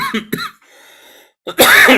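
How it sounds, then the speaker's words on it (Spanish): A man coughs in several sharp, close bursts, with a pause of rough breathing between them and a final harsh cough. "hoy sí que me amanecí con tos"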